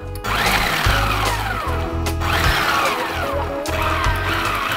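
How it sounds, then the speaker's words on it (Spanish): Food processor pulsing walnuts and curry powder for a fig and blueberry crumble, a loud whirring motor that runs in several short bursts, each rising and falling in pitch, with no voices. "Cierra el robot y ahora lo vas a ir mezclando dándole pequeños toquecitos solo para mezclar"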